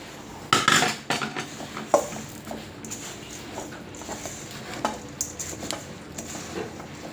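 Puffed rice is stirred with hot jaggery syrup in a pan, giving scattered scrapes, knocks and clatter of the ladle against the metal with a faint underlying crackle, close up, one sharp burst near the start, no speech.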